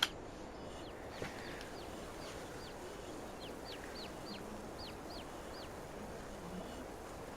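Chickens clucking in the video game Farming Simulator 22: short, faint, repeated clucks sit over a steady noisy ambient bed, coming in loose clusters throughout.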